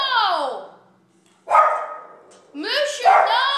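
A pet dog barks close and loud, three sharp barks spaced about a second apart in a quiet room.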